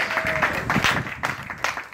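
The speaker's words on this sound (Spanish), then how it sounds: "¡Ahí está el aplauso!" An audience at a Mexican wrestling event applauds the new tag team champions, scattered bursts of clapping rising and falling over a couple of seconds, moderately loud in a large hall.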